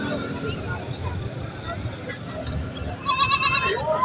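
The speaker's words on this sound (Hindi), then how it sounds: "ये बकरियां हैं सारी" Goats bleat at a busy goat market, a few short cries rising near the end over a constant murmur of people talking close by.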